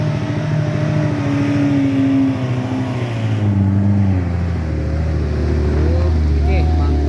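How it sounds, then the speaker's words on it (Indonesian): A Mitsubishi L300 drives by on a steep uphill road, its engine a loud, steady low rumble that rises and shifts in pitch over several seconds, mixed with other heavy traffic noise. "Oke, ada mobil L300."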